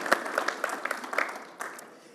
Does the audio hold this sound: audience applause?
yes